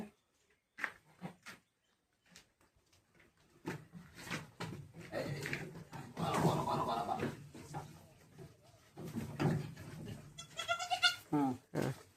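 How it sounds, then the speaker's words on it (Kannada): A Sirohi goat bleats a few times, loudest near the end, amid rustling and shuffling farmyard activity. "ನೋಡಿ ಇಲ್ಲೊಂದು ಅದು ಮೇಕೆ ಆಯ್ತು."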